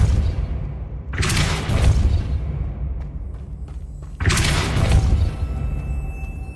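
A Depulso spell cast in the game Hogwarts Legacy, with two loud, full-range whooshing blasts, each a dense burst of roughly a second with a low rumbling tail, separated by a quieter stretch.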